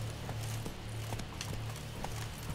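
Roach, the horse in The Witcher 3, moving at a galloping pace, with quick, even clip-clop hoofbeats over a steady low game hum, fairly close and continuous.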